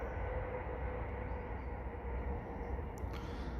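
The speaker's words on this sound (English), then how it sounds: "It's right near a train line as well." Steady low rumble of a train rolling past nearby, continuous and fairly loud throughout with no talking.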